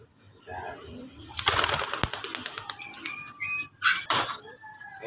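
Pigeons in a loft give a burst of wing flapping followed by short cooing and squawking calls, close and fairly quiet, with a low voice speaking briefly.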